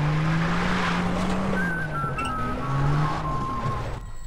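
A car engine hums and shifts pitch as the vehicle drives along in Far Cry 3, with a brief thin whine and light tire noise, no voices.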